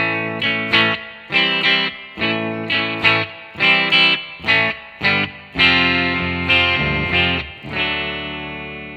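Electric guitar run through effects plays a song intro, distorted chords chopped in a steady syncopated rhythm, then held strums toward the end, loud and alone.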